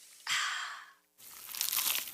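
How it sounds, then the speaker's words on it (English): Someone bites into a crunchy, cheesy pizza slice, giving two close crunching bursts separated by a short pause, the second rougher and more crackly, with no talking. "Is that the sound of an ooey gooey cheesy crunchy slice of P-I-Z-Z-A?"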